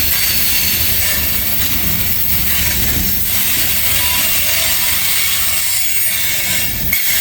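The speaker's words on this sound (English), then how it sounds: "These big, heavy trains," Heavy freight train laboring up a steep grade in Kentucky, a loud steady rumble and roar of engines and wheels holding throughout, with a brief sharp clank near the end.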